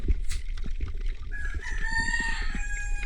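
A rooster crows loudly nearby, one drawn-out cock-a-doodle-doo rising over scattered clucks and rustling background noise.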